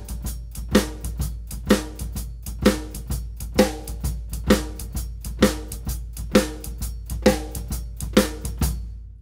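A drum kit plays a shuffle groove, the bass drum hitting in unison with the right hand while the left hand strikes the snare, producing a steady, evenly spaced swung pattern, close and moderately loud with no talking.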